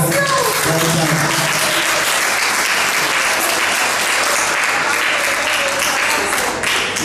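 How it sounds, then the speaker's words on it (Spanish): Sustained applause from an audience at a tribute event, dense and steady clapping throughout with a slight swell at the start, carrying on without pause for the whole stretch. "así que un aplauso para Elvira"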